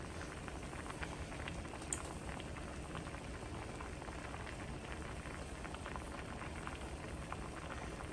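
Beans boiling in a pot of water, a steady, close bubbling and popping that runs unbroken throughout with dense liquid patter and no talk.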